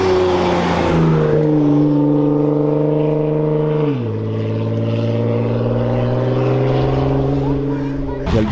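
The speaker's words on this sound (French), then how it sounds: "Il y a le deuxième convoi qui arrive, McLaren, Alpine, il y a Cupra, Audi R8." Supercar convoy of a McLaren, Alpine, Cupra and Audi R8 driving past on a mountain road, engines droning loud and steady with a falling pitch shift as cars go by.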